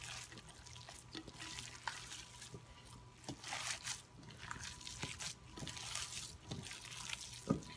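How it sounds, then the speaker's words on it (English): Gyro meatball mixture being mixed by hand in a bowl, soft wet squishing and scraping in an irregular rhythm, close and fairly quiet, with no talking. "You don't want to over mix, but you want to make sure that everything is blended"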